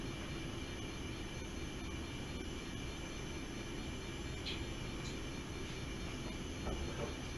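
Trains run continuously on a layout beside the Elkhorn River, giving a steady low rumble of rolling wheels with occasional faint squeals and clicks, no voices over it.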